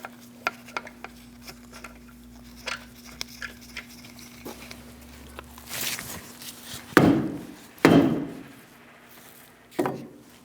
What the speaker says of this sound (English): we're going to put one lug nut stud back in and give it a good whack